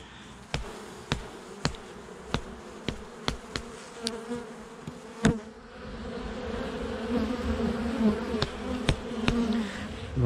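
Honeybees buzz steadily at a beehive at an apiary in November, a continuous close drone broken by sharp regular clicks and knocks, with no talking.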